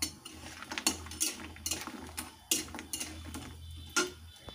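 A metal spatula clanks and scrapes irregularly against a wok (kadai) as lentil dumplings (bori), fried in hot oil until reddish, are stirred and lifted out. The sharp clinks are close and there is no talk.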